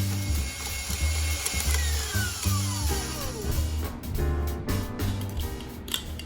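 An electric mixer whips heavy cream with powdered sugar and vanilla for a French silk pie topping. It gives a continuous loud motor whir with shifting pitch and rattling beaters, and no voices over it.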